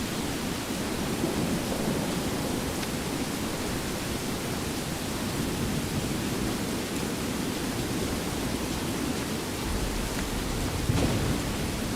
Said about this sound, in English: Rain is beautiful. It's a tad loud.